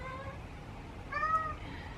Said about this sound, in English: if you hear his meowing